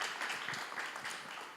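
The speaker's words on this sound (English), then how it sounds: "Round of applause." Applause from a panel-discussion audience welcoming a guest onto an AI and robotics panel: a dense, steady wash of many hands clapping at moderate level, thinning slightly toward the end.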